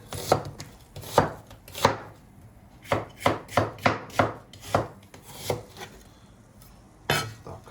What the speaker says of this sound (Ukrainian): я ще хочу зробити таку піджарочку до цих млинців з цибулі і наріжемо цибульку нашу.